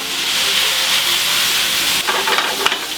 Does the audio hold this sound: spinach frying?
yes